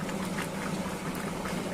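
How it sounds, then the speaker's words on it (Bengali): Potol, potato and egg curry boils in water after the spices are fried, making a steady, close, dense bubbling hiss with no talking. "মশলা কষার পর ওগুলো দিয়ে জল দিয়ে ফোটাচ্ছি।"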